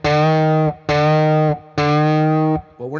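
Three distorted electric guitar notes, each held under a second and rising in pitch a step, separated by short gaps, loud and close.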